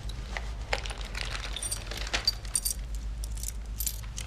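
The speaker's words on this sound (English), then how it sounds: "Keys." A bunch of keys jingles and clinks for a few seconds, close and fairly loud, over a low steady hum.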